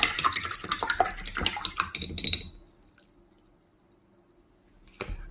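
Dishes being rinsed in water, with splashing and clattering for about two seconds close by, then near silence and a single brief knock at the end.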